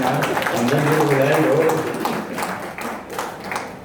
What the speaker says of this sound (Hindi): तालियां बजाओ भैया